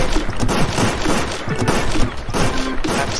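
Gunfire from a VR shooting game set at a lumber company: loud, dense, continuous bursts of shots and thuds filling the moment, with no one speaking.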